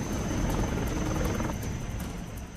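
An army helicopter at a flood rescue of trapped CRPF personnel near a camp, a loud continuous rotor thrum with a steady blade chop, close and unbroken, and no voices.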